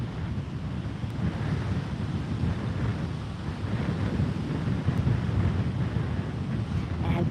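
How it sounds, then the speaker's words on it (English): Big ocean surf rolling in at a beach at sunrise, a steady loud roar of breaking waves mixed with wind buffeting the microphone, continuous throughout with no clear gaps. "the surf is really big today"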